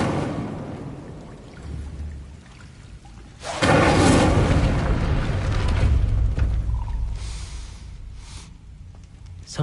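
An Incendio fire spell is cast in the video game Hogwarts Legacy. A sudden loud, broad whoosh bursts in about a third of the way through, then a sustained roaring rush follows. A quieter rumbling ambience comes before it.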